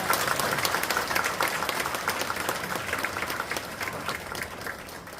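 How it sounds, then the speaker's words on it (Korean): Sustained applause from a large congregation at a Korean church service, a dense, steady patter of many hands clapping at once that gradually eases off toward the end. "큰 박수 부탁드립니다."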